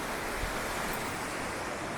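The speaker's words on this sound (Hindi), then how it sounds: "ये रिवर साइड, ये पीछे झरना है पूरा" A waterfall by a river in Kasol, Himachal Pradesh, roars as steady, dense broadband rushing water, constant and fairly even, with no voices.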